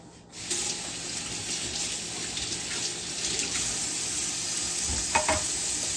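Tap water runs steadily into a kitchen sink as eggplant is rinsed underneath, a continuous hissing splash starting abruptly and holding level, with a brief clatter near the end.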